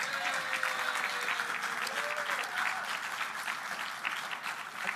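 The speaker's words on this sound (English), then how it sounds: "And one more round of applause" Audience at an awards gala applauding steadily, a dense wash of many hands clapping throughout with a faint voice briefly audible in the background.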